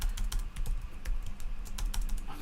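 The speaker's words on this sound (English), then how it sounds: "I'm going to slow down my typing so that I can type a simple word like printf incorrectly" Rapid typing on a computer keyboard during a live programming stream, a dense run of crisp, close key clicks with an uneven rhythm and no talking.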